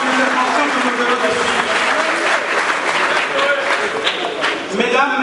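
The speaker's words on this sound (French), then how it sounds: "Applaudissons tous pour les pertinentes interventions que nous venons de" Dense, loud audience applause at a political press conference, a steady wash of many hands clapping continuously with some murmuring voices mixed in, sustained evenly from start to finish.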